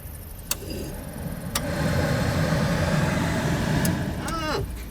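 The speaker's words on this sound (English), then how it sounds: "Here's the blower motor." Blower motor running in a 1969 Chrysler 300, a steady low whirring hum that swells after a couple of sharp clicks and holds, ending with a brief rising whine and another click.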